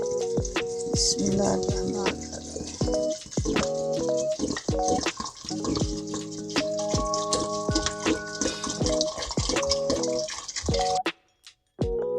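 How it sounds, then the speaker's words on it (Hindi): Water is poured from a container into a pot of rajma beans for cooking, a close bubbling, glugging stream with changing pitch that runs for about eleven seconds before stopping abruptly. "इसमें इतना पानी डालना कि जो गल जाए, तो यही पानी सालन में इस्तेमाल करेंगे"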